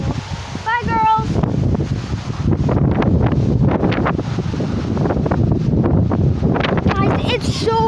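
Strong gusts in a massive windstorm roar and buffet the microphone in a loud, continuous rush, with a few brief voices breaking through near the start and end.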